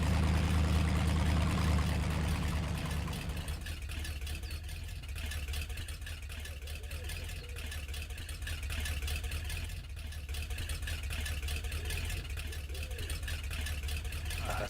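A truck engine idling in the off-road driving game Mudrunner, a steady low mechanical drone that runs the whole time, slightly louder at the start and then settling at an even level.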